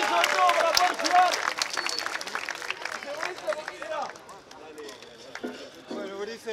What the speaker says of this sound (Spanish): Quiero un fuerte aplauso de nuevo para él.